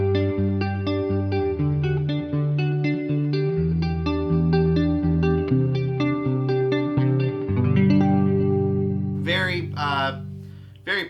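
An Orangewood Juniper guitar is finger-picked through chorus, slapback delay and reverb, plucked notes ringing with shimmering echo over low bass tones, ending in a brief strum and a few spoken words.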